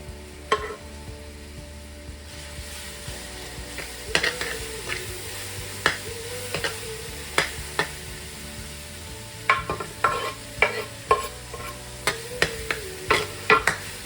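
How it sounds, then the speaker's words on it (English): Garlic and pepper cook in a pan with a soft, low sizzle, punctuated by sharp utensil clicks and taps that grow more frequent toward the end. "Garlic and pepper has been cooking for like a minute"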